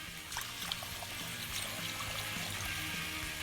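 Cream soup powder is stirred into two cups of water, giving a continuous soft pouring and swirling wash of liquid with faint clinks, steady and close for a few seconds.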